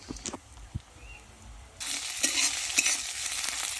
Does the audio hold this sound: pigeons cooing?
no